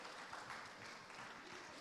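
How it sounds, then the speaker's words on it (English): An audience at a Christmas ballet recital gives steady applause for the ballet students, a faint, even patter of many hands heard from a distance. "a round of applause again for our ballet students"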